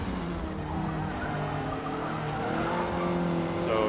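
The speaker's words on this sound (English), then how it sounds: "you can still hear the tires squealing." Honda #73 Civic tires squealing at Suzuka in Forza Motorsport, a steady high-pitched screech riding over the continuous engine drone, rising slightly toward the end.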